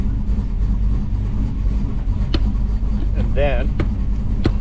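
A 1983 Pontiac Parisienne engine runs steadily after its first start-up, a low continuous rumble that stays loud throughout while someone talks over it.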